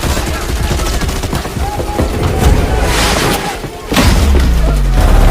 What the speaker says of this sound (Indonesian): CIA menyadari keberadaannya dan menembakinya secara membabi buta